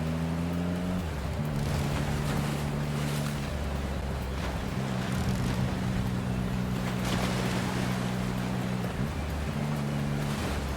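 A speedboat engine held at throttle in the Love and Deepspace video game, droning steadily with shifting tonal layers over a constant rush of water and spray.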